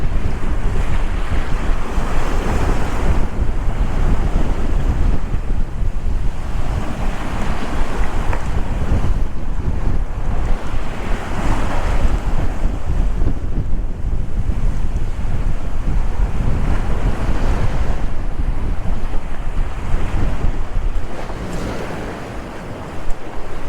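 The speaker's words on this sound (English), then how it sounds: "Got some good sized waves, but we are cutting through them pretty nice." Big waves and steady wind roar around a sailboat making good speed on a broad reach under sail between St Maarten and the BVI, a continuous loud wash of surf and wind buffeting the microphone, easing slightly at the end.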